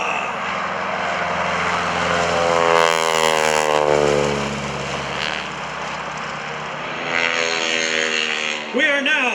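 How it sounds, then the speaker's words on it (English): A 500-horsepower Super Stearman biplane roars through its takeoff roll at an airshow, the loud propeller drone swelling and rising in pitch as it passes close by, then easing off into a sustained engine hum. "on the takeoff roll, 500 horsepower super Stearman"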